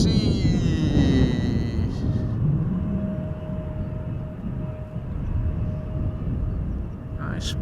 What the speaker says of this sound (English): I spy with my little eye a departing Queen of the Sky.